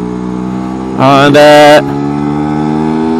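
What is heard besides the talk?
Lambretta scooter engine revving with Scoot RS sport exhaust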